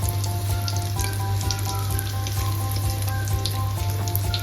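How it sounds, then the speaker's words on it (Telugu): Home-made KFC-style chicken fries in oil over a medium flame, giving a steady, loud, close sizzle with fine crackling pops. The sound runs unbroken throughout with no talking. "నిదానంగా ఆయిల్లో వేసుకొని సిమ్లో కాల్చుకోండి"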